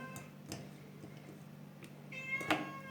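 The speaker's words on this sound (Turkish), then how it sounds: "Hala miyav da miyav" A cat meows once, fairly faint, against a quiet indoor background with a few soft ticks and knocks.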